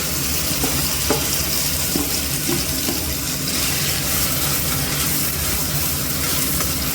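Ground ridge gourd paste sizzling in hot oil with green chillies, cumin and black cumin, a steady close crackle and hiss with occasional stirring scrapes and no talk.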